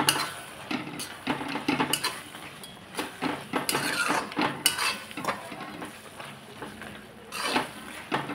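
Soybeans and oil stirred together in a metal cooking pot for spicy soybean rice, with repeated scraping clinks of a spoon against the pot and a faint sizzle underneath, close and busy throughout.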